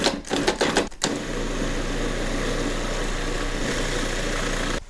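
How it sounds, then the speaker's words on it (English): A food processor pulsing keto shepherd's pie ingredients: a few short choppy bursts, then a loud, steady motor whir running close up, with no one talking. "Top on. Pulse a little bit."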